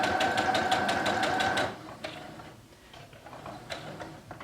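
A sewing machine stitches a fox pillow, running close in a fast, even mechanical rhythm for about a second and a half, then stopping, with a few scattered taps and handling noises after.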